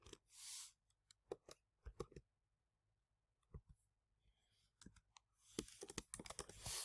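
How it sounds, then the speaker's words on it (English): Scattered bursts of clicky keystrokes, some quick runs and isolated taps, with quiet gaps between, close by and fairly soft. "I'm just going to go ahead and start typing."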